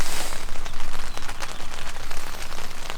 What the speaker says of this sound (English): It's not raining too bad.